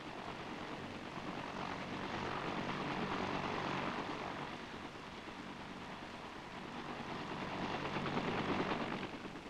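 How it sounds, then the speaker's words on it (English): US Army helicopters in Vietnam in 1963 taking off and circling, a continuous rotor and engine roar that swells, eases, then builds again, heard alone without voices. "The 5 tough little choppers circle to take their places as protectors of the air fleet"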